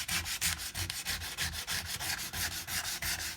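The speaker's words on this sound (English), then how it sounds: "then I start off with 60 grit sandpaper" A wooden guitar neck being worked with 60 grit sandpaper: steady, rhythmic back-and-forth rasping strokes, close and fairly loud, about four strokes per second with no voices.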